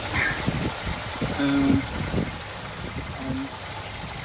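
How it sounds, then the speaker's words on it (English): Air cleaner rattles on an idling 1958 Buick Limited Riviera Coupe Nailhead V8, a low steady engine rumble with a faint metallic buzz under someone talking nearby. "There you go, that's just the air cleaner rattles."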